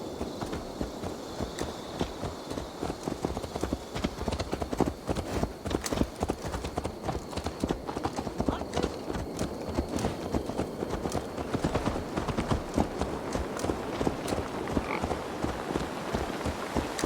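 Horse hooves clip-clop steadily and continuously on a hard path in the video game Assassin's Creed Valhalla, close and moderately loud against a busy ambient background.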